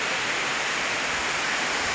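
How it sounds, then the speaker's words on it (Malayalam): Heavy rain falls just outside an open door, with wind, making a loud, uniform hiss of steady downpour with no other sounds. "മഴയാണ് കേട്ടോ."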